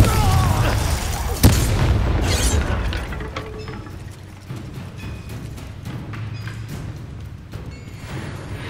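A Confringo fire spell goes off in the Hogwarts Legacy video game with one loud blast, and the rumble and clatter fade over the next few seconds.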